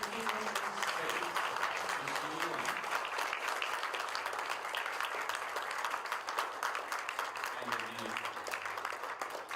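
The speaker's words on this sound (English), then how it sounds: "Ladies and gentlemen, a round of applause." An audience at a presidential palace satellite launch event applauds steadily for nearly ten seconds, dense clapping throughout with faint voices and tones underneath.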